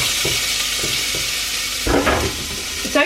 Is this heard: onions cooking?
yes